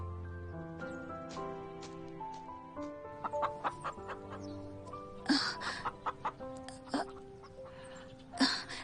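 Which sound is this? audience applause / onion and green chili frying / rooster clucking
rooster clucking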